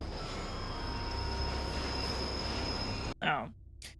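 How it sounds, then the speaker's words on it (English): A subway train in the underground station of The Matrix (1999) roars loudly and steadily for about three seconds, then cuts off abruptly into brief talk. "But the train isn't real!"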